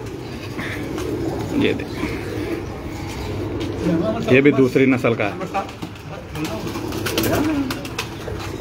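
Lal Pari breeder pigeons coo on a rooftop loft, soft repeated cooing beneath a man's close, continuous talking, with a few other birds chirping faintly.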